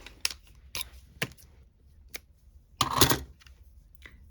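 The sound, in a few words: scissors cutting hemp cord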